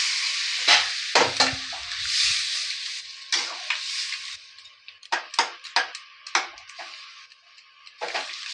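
Green peas stirred into fried vegetable masala in a pan for Bengali ghugni, with a steady close sizzle and repeated scraping clicks of the spoon at an uneven rhythm throughout.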